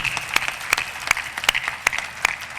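Steady applause from a crowd at St Mark Parish church in Gujranwala, with sharper individual claps popping out every so often across the whole stretch, at moderate loudness.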